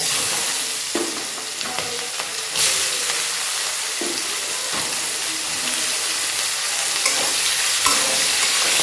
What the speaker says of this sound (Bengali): এবার ভালো করে পেঁয়াজটাকে নাড়াচাড়া দিয়ে নেব ভেজে নেব